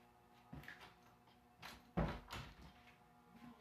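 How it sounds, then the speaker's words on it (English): An interior room door is pushed shut at home, giving a soft scrape and a muffled thud with a couple of lighter knocks, faint and close in an otherwise quiet room. "I had to close my door"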